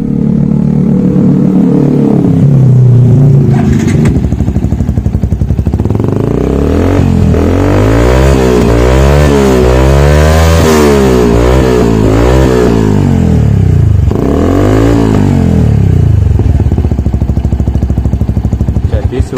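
A Yamaha Vixion-type motorcycle fitted with a Tiger aftermarket exhaust idles loud and close, then revs up repeatedly in rising and falling bursts with a deep, bassy growl before settling back to idle.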